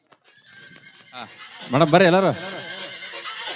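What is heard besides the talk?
horse neighing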